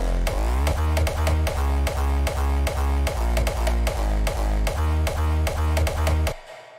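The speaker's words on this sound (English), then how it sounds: "I have the kick right here." A hardstyle kick drum programmed in FL Studio thumps in a fast, steady four-on-the-floor pattern, each hit loud and distorted with a pitched, booming tail, then cuts off abruptly at the end.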